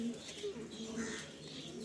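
Andhra pigeons in a loft coo softly in low, repeated murmurs, with faint chirps and quiet background noise.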